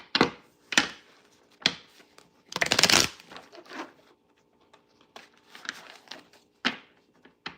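A deck of tarot cards is shuffled by hand in a quiet room, giving a series of short riffling bursts with one longer rippling shuffle in the middle, close and fairly soft, with no talking.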